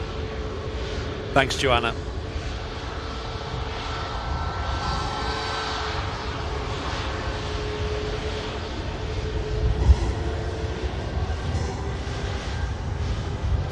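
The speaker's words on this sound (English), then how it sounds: "737 MAX coming in as well." Boeing 737 MAX arriving at Manchester Airport, a distant, moderately quiet jet engine roar sustained throughout, with a brief sharp clatter early on and a person speaking briefly over it.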